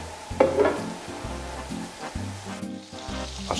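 Butter with a little oil sizzling in a pan, a steady crackling fry with some stirring clatter and a low rhythmic background thump, no voices.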